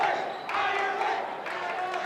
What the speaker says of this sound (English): the home crowd starts mocking Ivanauskas, chanting Ireland